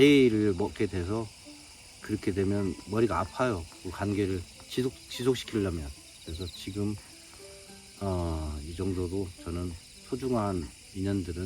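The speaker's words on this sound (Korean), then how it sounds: "지금 귀뚜라미 소리 들리잖아요." Autumn crickets keep up a thin, steady, high chirping in the background while someone speaks Korean at length in the foreground.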